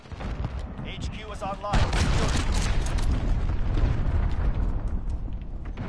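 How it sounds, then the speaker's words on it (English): Cruise missile blast in Modern Warfare multiplayer, a sudden heavy explosion that swells into a loud, sustained rumble of debris and gunfire, following a brief spoken line and a short electronic chirp. "Allied cruise missile launched."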